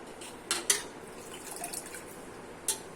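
Washed potatoes draining in a kitchen, with water dripping off them in a few sharp, close drips and small splashes over a quiet background.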